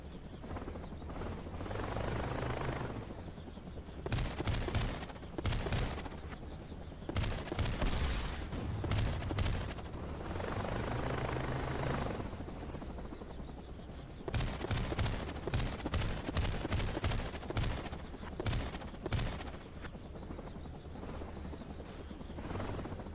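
Repeated bursts of rapid gunfire in a video game shooter, alternating with a steady whirring drone like a helicopter, the volleys fast and loud with short gaps between them.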